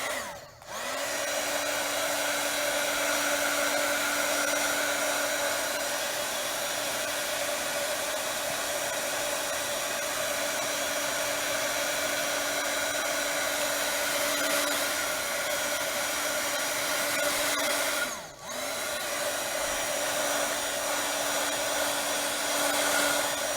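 A hair dryer blows continuously to dry ink on a poinsettia craft piece, a loud, close, steady roar with a constant whine, briefly cut off near the start and again near the end.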